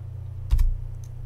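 A short burst of keystrokes on a computer keyboard as a Linux terminal command is entered in Ubuntu 13.04, a quick cluster of close clicks over a steady low electrical hum.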